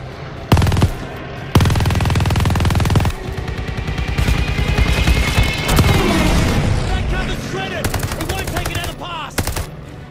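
Rapid machine gun bursts and heavy gunfire in Call of Duty Vanguard's Rats of Tobruk campaign mission, loud and close, with booming impacts and shouted voices over the battle noise.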